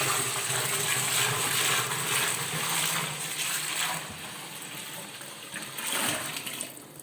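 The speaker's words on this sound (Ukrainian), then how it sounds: "Зараз додаю залишок води" Cold water pours and splashes steadily into a pot while brewing beer, a broad rushing wash that eases slightly partway through, with no talking.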